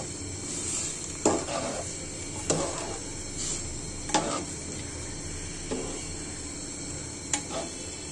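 A spoon stirs taro stolon curry in a pan, scraping in slow, regular strokes about every second and a half over a soft, continuous background sizzle.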